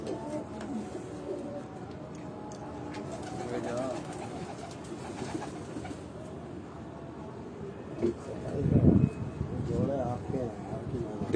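Breeder pigeons coo at a loft, their low murmuring calls rising under steady wind noise and someone talking, with a louder burst of cooing near the end.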